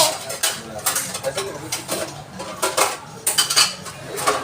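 Metal utensils clink and scrape against a bowl as leche flan mixture is stirred, giving uneven bursts of rattling, with quiet gaps between the strokes.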